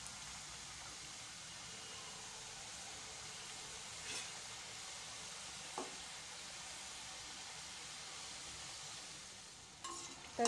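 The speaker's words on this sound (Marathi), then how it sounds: "चला तर मग गरम तेलामध्ये आपण सर्व करंज्या ज्या आहेत दोन्ही बाजून छान अशा तळून घेऊया" Sesame and jaggery karanji fry in hot oil with a steady, soft sizzle and fine crackling hiss that holds throughout, broken by a few faint clicks and clatters of utensils.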